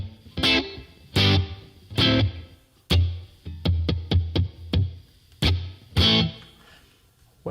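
Distorted electric guitar through a Legends Verb reverb plays short bursts of notes and a quick run of plucked tones, each phrase ringing out briefly before a pause.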